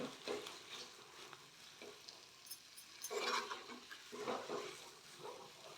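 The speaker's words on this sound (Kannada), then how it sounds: "ಇದನ್ನ ನೀಟಾಗಿ ಇದರಲ್ಲೇ ನೀಟಾಗಿ ಸ್ಮ್ಯಾಶ್ ಮಾಡ್ಕೊಳ್ಳಿ" Potato palya being smashed and stirred in a pan for masala dosa, with scraping and soft mashing strokes coming in irregular bursts and a faint sizzle underneath, close by.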